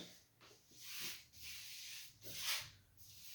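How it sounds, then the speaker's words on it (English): A paintbrush strokes paint into the groove of a baseboard before installation, making close, soft rubbing swishes in slow repeated passes with brief pauses between strokes. "What I like to do is first just brush on in this groove."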